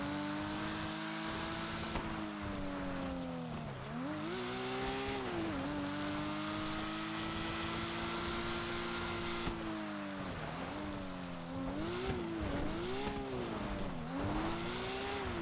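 Porsche GT4 in a racing game, its engine holding a strong steady tone with repeated dips and climbs through gear changes, and tire noise rising during cornering, loud and continuous.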